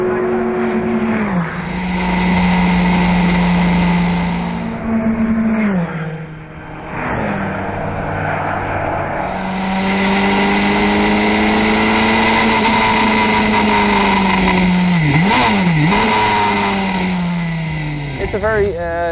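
Ferrari F40 Le Mans Beurlys with its V8 engine running, revving hard and close with rising and falling pitch, a brief dip in between, and loud, continuous exhaust roar throughout.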